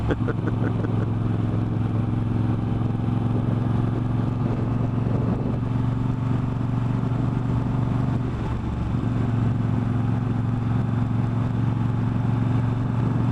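A Moto Guzzi V7 III Carbon Shine motorcycle with solid cast wheels rides over broken concrete roads, its steady loud engine drone and wind rumble continuous with a brief dip in revs midway.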